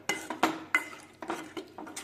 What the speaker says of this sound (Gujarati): હવે હલાવી લેવાનું